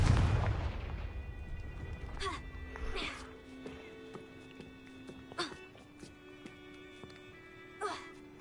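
Several blasting-spell explosions from Hogwarts Legacy gameplay: a big booming burst at the start, then sharper cracks and blasts spaced through the rest, over a low game background.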